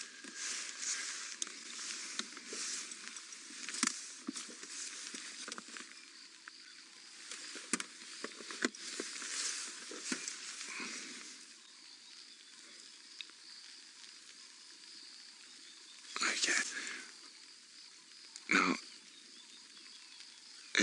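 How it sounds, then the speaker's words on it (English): Rain patters steadily on a taut vehicle rain cover on a safari drive, a dense soft crackle with a few louder bursts of heavier drops near the end. "You'll be able to hear the pitter-patter on our rain covers."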